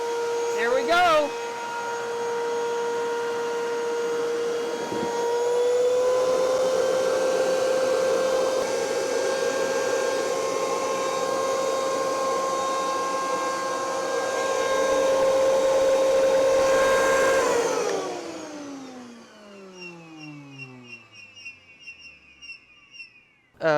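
A vacuum former runs loud and steady while EVA foam is pulled and held under pressure, a sustained whining roar that winds down near the end into a falling tone and quiet clicks.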